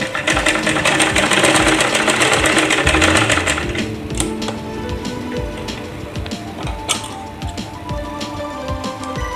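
A sewing machine stitches a salwar waistband belt, running loud and fast in a dense rattling buzz for about four seconds, then easing into slower, quieter stitching with light clicks.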